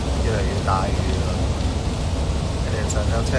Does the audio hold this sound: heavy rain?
yes